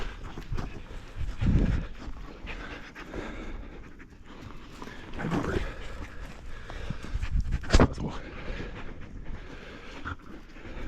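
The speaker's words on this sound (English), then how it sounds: "So many dogs. Here's all the dogs." Several sled dogs panting near a snowmobile sled outdoors: quick, breathy panting in uneven bursts, fairly close, with occasional louder huffs and shuffling between them.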